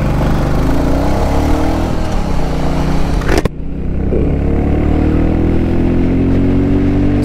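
A car pulls away from a standstill and accelerates hard up through its gears, the engine note rising in long climbing sweeps with a brief break at a gear change, loud and close throughout with no talking.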